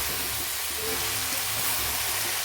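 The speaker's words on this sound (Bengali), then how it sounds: "এটাও আমি কষিয়ে নেবো একটু পালং শাকটা সবজির সঙ্গে ভালো করে" Spinach stir-fries with mixed vegetables in a pan for a catla fish head dish, giving a steady, close, loud sizzling hiss with no pauses.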